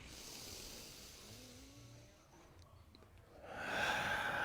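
A slow, steady exhale during a yoga breathing exercise: a soft, breathy hiss trails off, then a fuller rush of air swells near the end, close and alone.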